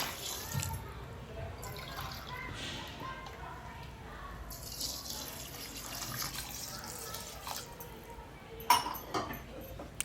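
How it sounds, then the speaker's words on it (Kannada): Water is added to soaked rice in a cooking pot, a light running splash with occasional clinks of metal, fairly quiet and close, with someone talking intermittently over it. "ಈಗ ನೀರು ಹಾಕ್ಕೊಳ್ಳೋದು"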